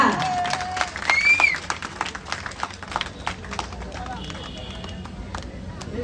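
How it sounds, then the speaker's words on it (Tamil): An audience claps at a public talk on farming, a scattered burst of hand claps that swells early and then thins out, with voices over it. "நீங்க ஒரு கைத்தட்டல் கூட கொடுக்க மாட்டீங்களா?"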